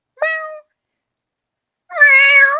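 A human voice imitates a cat, giving two meows: a short one near the start, then a longer, louder one after a pause. No other sounds.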